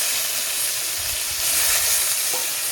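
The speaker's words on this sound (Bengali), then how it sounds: "পেঁয়াজ বাটাটা আমি এদিকে ভালো করে ভেজে নেবো" Onion paste frying in hot oil with black cumin, bay leaves and green chilies, a dense continuous sizzle and hiss close up, with faint stirring beneath.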